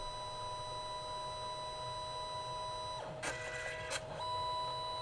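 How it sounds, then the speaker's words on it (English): A CP4100 printer drawing in and feeding a sheet of paper: a quiet steady electronic hum, then a burst of close mechanical whirring and clicking for about a second, with no one talking. "Seems to be grabbing a sheet of paper, feeding it through the printer at this point."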